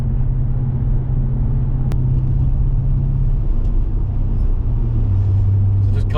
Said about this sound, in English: we've got a BURBLY V8